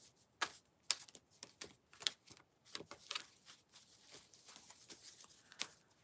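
A deck of cards is shuffled by hand at close range, giving soft irregular riffles and taps, quiet and alone with no talking.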